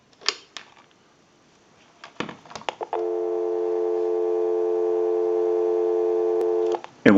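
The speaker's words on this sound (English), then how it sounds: "Go ahead and give you some dial tone." A steady telephone dial tone on a line taken from a designer desk telephone under repair, humming continuously for about four seconds after a few clicks and handling knocks, then cut off by a final click.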